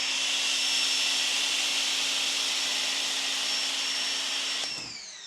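An automotive electric pressure washer runs a foam cannon, its motor droning in a steady, loud, hissing whine with a faint hum beneath, until the spray cuts off near the end and the motor winds down.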